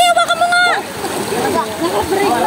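A fairly strong stream current rushes and splashes at Puray Falls in Montalban, Rizal, running continuously beneath people talking nearby.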